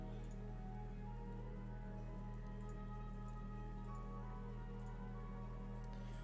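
Steady rain from a Skyrim video game soundtrack falls as a dense, continuous patter with soft ticking drops, layered over a low sustained ambient drone.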